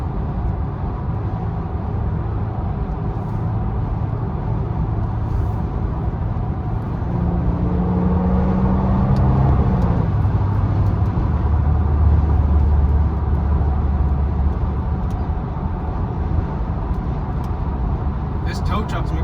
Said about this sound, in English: This tow truck's making all kinds of noise.